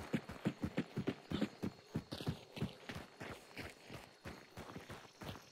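Horse hooves clip-clop in a video game, a steady run of distinct hoofbeats close by that slows and thins toward the end, with no talk over them.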